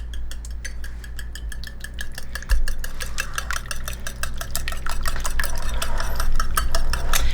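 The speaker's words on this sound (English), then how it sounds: "I'm just gonna whisk this all up." A whisk beating ingredients in a bowl, a fast, regular run of quick clinking strokes up close over a low steady hum, growing a little busier toward the end, with no talking.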